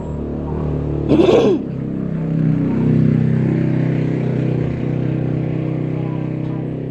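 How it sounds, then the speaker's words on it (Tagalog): Loud motor engines drone steadily just outside a home, a broad low rumble rising and falling as vehicles pass, with a brief sharper burst near the start. "Napay mga motor anak, dagko kay tingog."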